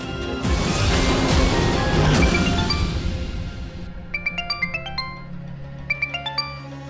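A phone rings with a bright, repeating electronic ringtone in short bursts for an unknown-number call in a Bengali TV drama, following a loud crash-like burst of dramatic music.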